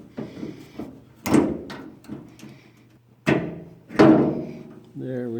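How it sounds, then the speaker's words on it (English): Door lock slid out of a car door, a series of close scraping clunks and thuds spaced irregularly, with a brief voice near the end. "I'm going to slide that lock back out."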